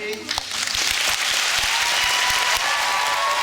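Parents and children at the Thiviers middle school give sustained applause after a radio contact with the International Space Station, a dense, steady clapping that fills the room.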